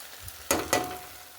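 Spice paste stir-fried in a pan for a cauliflower, potato and chicken curry, two quick scraping strokes over a brief sizzle, close and short, no voices.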